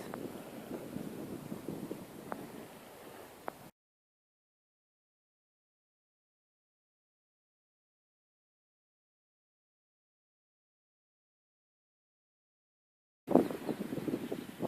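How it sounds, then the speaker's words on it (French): Gusty wind rumbles and buffets the microphone for a few seconds, then cuts to silence before the blustery noise briefly returns. "J'espère que vous entendez pas trop le vent parce que ça souffle dur ce matin."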